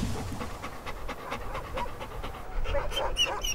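Sled dogs pant rapidly and rhythmically while hauling a dog sled on a Norwegian ski tour toward a mountain couloir, the quick breaths close and steady over snowy trail noise.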